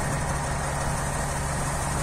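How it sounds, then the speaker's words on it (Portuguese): A truck engine idles steadily at dawn while warming up, a constant close low rumble with no talk over it. "O caminhão tá aí esquentando,"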